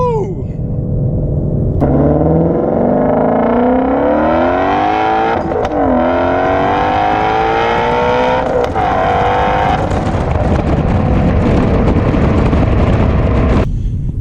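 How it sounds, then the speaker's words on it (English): Exhaust of a 2020 Shelby GT350 on a test drive, loud and close as the engine revs up through repeated pulls with gear shifts, a deep rumble throughout. "You get a nice low rumble from the exhaust"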